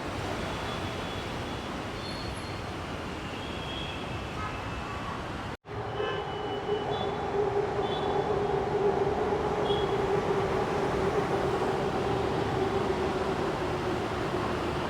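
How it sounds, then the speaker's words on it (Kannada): A metro train passes on an elevated track near a temple in Vijayanagar, Bangalore, making a steady, loud rolling rumble with a sustained tonal whine throughout. "ಅಟ್ಲೀಸ್ಟ್ ಮೆಟ್ರೋ ಪಾಸ್ ಆಗೋ ಶಾರ್ಟ್ ಸಿಕ್ತು"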